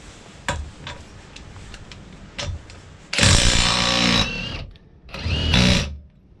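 AEG cordless impact wrench set to maximum mode, loosening a bolt: a few light ticks, then two loud, rapid hammering bursts of about a second each, separated by a short pause.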